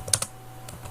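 A few quick keystrokes on a computer keyboard while entering labels in ArchiCAD 23, close and crisp, a short burst of clicks followed by a single tap.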